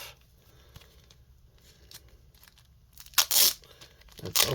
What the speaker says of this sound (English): Let's get the painter's tape off.